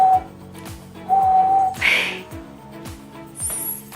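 A failed attempt at whistling: a few thin, breathy whistled tones, one short and one held, plus a brief airy squeak, all over a steady rhythmic background beat with no talking.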